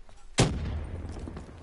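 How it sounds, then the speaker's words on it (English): A grenade goes off in the Call of Duty zombies map Shadows of Evil: one sudden loud blast followed by a rumbling tail that fades over the next second. "That's a grenade."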